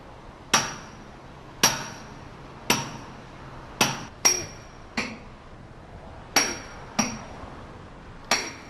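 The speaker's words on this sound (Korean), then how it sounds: "(3kg의) 망치를 허공에 갈라 체결된 핀을 빼내는 일은 수십 년 베테랑에게도 결코 녹록지 않은 작업이다." A 3 kg hammer knocks pins out of a tower crane during dismantling. About nine sharp, ringing metal-on-metal blows land at an uneven pace, each one loud and followed by a short metallic ring.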